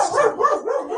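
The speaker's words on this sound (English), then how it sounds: "sorry for my dog in the background" A dog in the background of a home video call gives a run of close, whiny yips and barks, about three quick rising cries with no talk over them.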